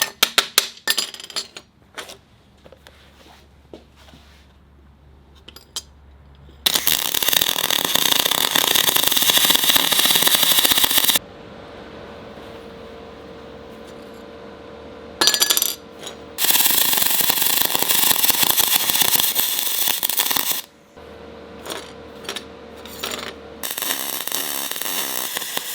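Aluminum welding with a Harbor Freight spool gun, loud bursts of buzzing, crackling arc noise in several long runs, separated by quieter gaps with a low hum and clinks.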